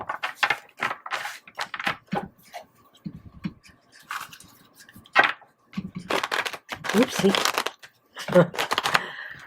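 Rapid riffling and flicking of cards being shuffled, in quick bursts with short pauses, close by, with occasional talking mixed in.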